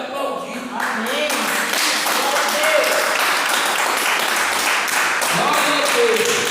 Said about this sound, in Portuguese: Continue aplaudindo a Jesus nessa noite